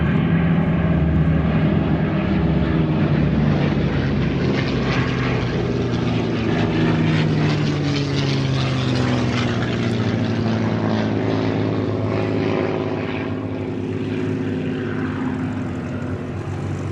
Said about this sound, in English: B-17 Sally B